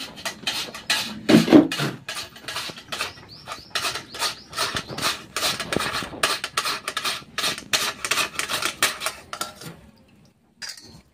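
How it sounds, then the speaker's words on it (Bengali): Raw potato rasps rhythmically across the large holes of a metal grater, a steady run of close, scratchy strokes that slows and stops near the end. "তো পুরো আলুটা এইভাবে আমি গ্রেট করে নিচ্ছি।"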